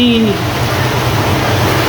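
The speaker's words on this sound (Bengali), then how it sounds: "অসম্ভব বৃষ্টি, দেখেন" Heavy rain falls outside in a steady, dense wash of noise, close and loud, with a brief tonal sound at the start.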